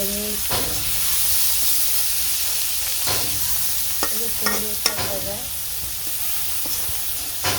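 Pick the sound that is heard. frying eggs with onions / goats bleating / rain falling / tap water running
frying eggs with onions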